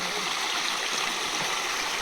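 Water pours steadily at a waterfall near the Aluru Kona Ranganayaka Swamy temple, a continuous, dense rushing hiss with no pauses, close and fairly loud throughout.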